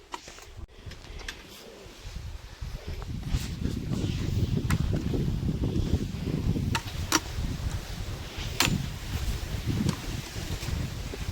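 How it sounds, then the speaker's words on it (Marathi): Strong wind on a mountain trek toward Kalavantin Durg and Prabalgad buffets the microphone in a gusty, low rumble that builds and stays loud, broken by occasional sharp clicks. "प्रचंड वारा सुटलाय."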